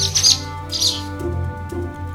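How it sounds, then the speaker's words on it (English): A bird chirps twice in quick high bursts over a soft background of music in a children's animated farm-animal read-aloud. "I see a red bird looking at me."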